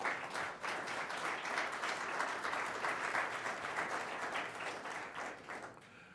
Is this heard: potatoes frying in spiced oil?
no